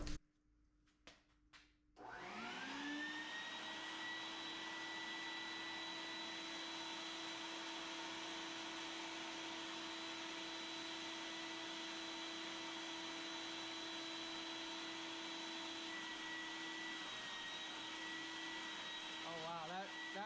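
A vacuum source applied to a plugged part on a 1963 Corvair engine during bench work: after a few clicks, a loud steady motor whine and airflow roar starts and holds evenly, with a brief warble near the end.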